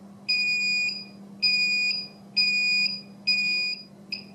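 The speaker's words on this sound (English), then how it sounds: "You can see and hear the higher frequency alarm" A high-pitched electronic alarm from a DIY LED battery voltage alarm for a KK2 flight controller beeps in a steady pattern, four long tones about a second apart and a short fifth, over a low constant hum.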